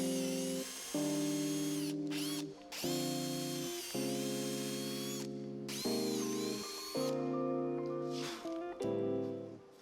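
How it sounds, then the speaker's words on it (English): A countersink bit driven by a power drill bores pilot holes for screws in wood for an outdoor chaise lounge, in several bursts of steady whining motor tone separated by short pauses, close and loud. "I then used a punch and a countersink bit to pre-drill all the screw holes"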